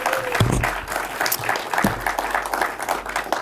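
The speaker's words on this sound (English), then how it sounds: "let's give a round of applause for them for the support" Audience applauds steadily at an evening creator talk event, a dense burst of clapping from an indoor crowd lasting a few seconds.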